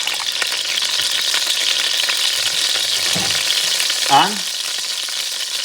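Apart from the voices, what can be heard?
annatto oil sizzling in hot pan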